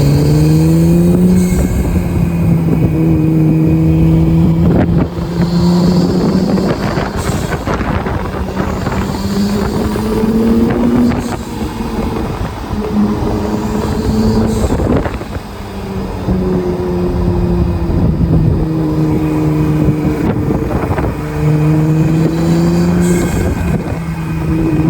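An Acura NSX fitted with K&N air filters revs its engine through repeated rising and falling pulls, a loud close drone over wind rush, with no talk.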